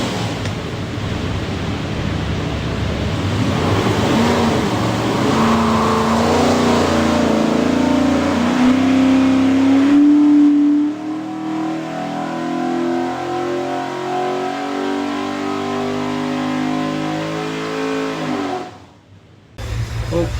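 A stacked 427 cubic inch Ford V8 built for a '65 Daytona Coupe runs on a dyno, its loud exhaust roar climbing in pitch through a sustained rev before cutting off abruptly near the end.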